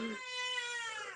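A house cat lets out a single drawn-out meow, close and fairly loud, rising then falling in pitch.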